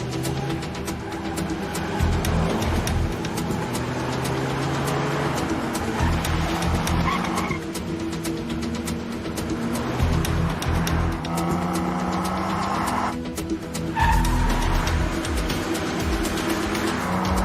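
A car starts and pulls away in a hurry, engine droning and surging with tire noise over several seconds, loud and close with a few abrupt shifts in the sound.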